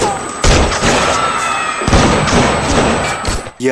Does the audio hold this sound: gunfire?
yes